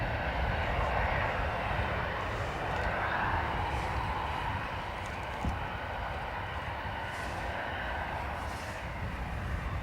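ATR turboprop airplane taxiing across the north runway at Dublin Airport on a wet, windy day: a continuous broad engine roar and hiss, steady and fairly distant, with faint talk at times.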